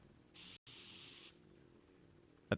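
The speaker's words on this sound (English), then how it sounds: "you can tell that it's just them pressing the spray button while it's paused" Two short bursts of spray hiss from a Dota 2 match during a pause, close and fairly loud with a brief gap between them, followed by a sharp click.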